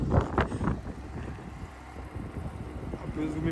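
Wind gusting and buffeting the microphone outdoors beside a parked BMW M5 E60 with a V10, a steady broadband rumble that swells in a few strong bursts early on and then settles into a constant roar.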